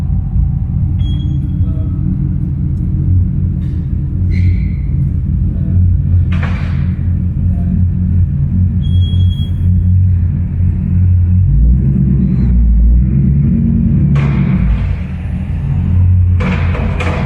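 A C5 Corvette cruises on the road, heard from inside as a loud, steady low rumble from engine and tires with occasional thumps over bumps.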